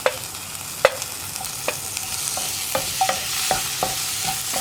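Chopped tomatoes tipped into cooking spice powders in a pan for chana curry: a steady close sizzle broken by about ten sharp spatula clicks and taps at uneven intervals, with no voices.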